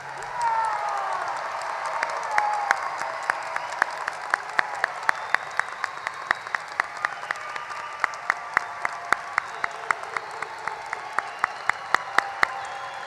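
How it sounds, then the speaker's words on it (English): A high school graduation crowd for the class of 2023 in West Chicago gives a sustained round of applause, a dense wash of clapping with sharp individual claps standing out, moderately distant. "Let's have one more round of applause for the class of 2023."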